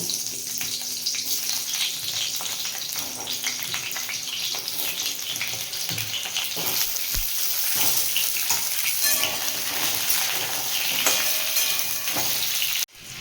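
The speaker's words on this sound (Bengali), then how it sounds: "ওই তেলের মধ্যে আলুগুলো ভেজে নেব।" Potatoes frying in hot oil give a loud, dense, continuous sizzle with a watery hiss and occasional clinks and stirring scrapes, close up for over ten seconds before cutting off abruptly.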